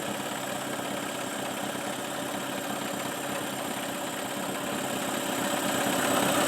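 A Mercury Marine 9.9H outboard motor on a Tracker boat runs at a steady idle, a continuous rough engine drone that grows slightly louder toward the end, with no voices.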